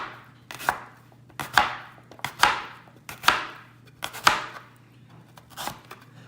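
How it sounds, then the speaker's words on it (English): A knife chops sweet potatoes into cubes on a cutting board, about seven crisp, close thuds in a steady rhythm, each with a bright ringing edge, and no talking. "Once I'm done, I can rotate, and it's chop, chop,"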